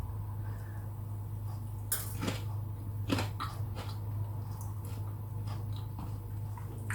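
Crunchy roast potato from a Ninja air fryer being bitten and chewed close up, with sharp crunch bursts recurring at irregular intervals over a steady low hum.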